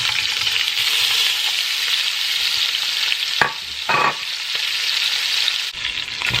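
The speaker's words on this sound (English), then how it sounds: "I'm going to fry up the sausage now." Sausage frying in a pot for jambalaya pasta, with a loud, continuous crackling sizzle and a couple of brief scraping stirs partway through, close-up and without speech.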